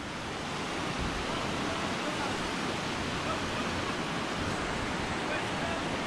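Water thunders steadily at a large waterfall in Brazil, where the river rushes over the drop, producing a dense, unbroken roar that stays loud and even throughout with no voices over it.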